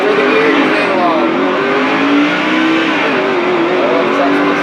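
A NASCAR Craftsman Truck Series truck engine in the NASCAR 2005 racing video game revs and accelerates steadily and loudly, with rising engine tones throughout and a voice talking over it.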